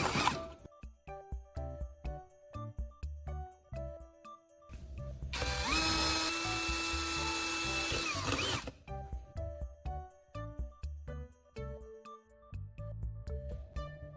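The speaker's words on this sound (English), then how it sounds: "I'm drilling holes at the marked points on the can." Drill boring holes into a metal tuna can, a sustained high grinding whine of about three seconds set among rapid clicking, rattling mechanical taps and clatter, close and fairly quiet.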